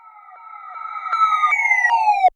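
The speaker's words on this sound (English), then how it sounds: "To get a better transition between the different parts, I used some effect sounds from the synth" Synth transition effects in a trap beat intro, a layered tonal sweep that climbs steadily in pitch and builds in loudness over about two seconds, with soft rhythmic pulses inside it, then cuts off abruptly.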